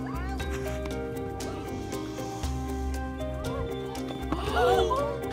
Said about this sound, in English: witnessed a band of wild horses take on an alligator